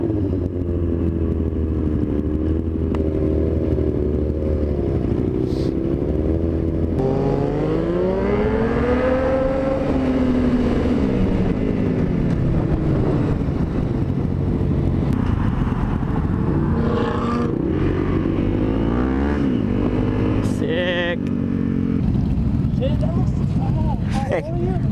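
Motorcycles rumble steadily along a road on a spring break group ride, engines droning and swelling in pitch close by, while people talk over the noise.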